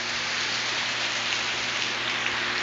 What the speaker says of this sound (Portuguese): Gravando ao som da chuva.